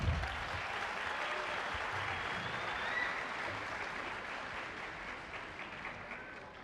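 An audience claps steadily at a middle school band concert after a performance, a dense, even round of applause that holds for several seconds and eases slightly toward the end.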